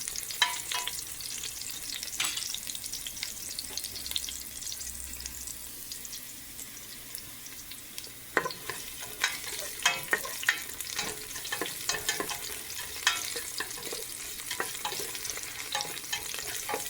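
Garlic frying in a pan as a base for sinigang, with a soft steady sizzle and repeated scraping stir strokes that become busier and more frequent in the second half.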